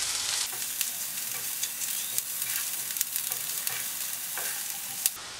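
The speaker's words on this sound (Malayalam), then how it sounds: "ഇതിൻ്റെ പച്ച മണമൊന്ന് മാറുന്നത് വരെ ഇതൊന്ന് മൂപ്പിച്ചെടുക്കണം" Chili powder masala sautéing in a pan while a chembu (taro) stir-fry is cooked: a steady, close sizzle with frequent scraping stir strokes throughout, no voices.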